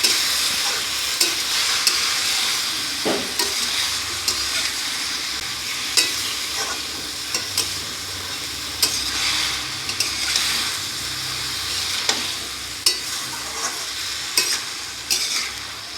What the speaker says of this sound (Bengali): ভালো করে নাড়ানাড়ি করে একটু জল দিয়ে দেবো